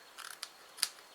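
Scissors snip through card paper for a winged pop-up card, a few quick, crisp cuts close by in a quiet room.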